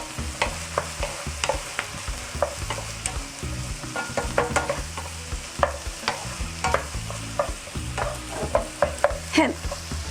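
Onion and garlic fry in butter in a pan, a close, steady sizzle broken by frequent stirring scrapes and light clicks of a utensil, with no voices.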